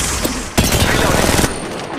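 Weapon fire in the Apex Legends Mobile video game comes as a loud, close automatic burst lasting about a second, with a single shot before it and a trailing shot after.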